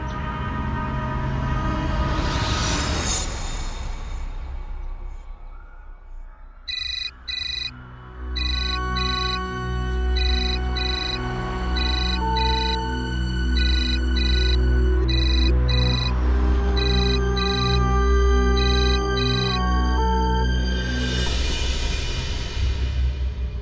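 Phone ringing unanswered: a loud electronic ringtone repeats its beeping pattern for about fifteen seconds, alone and unbroken, between louder tonal swells at the start and end.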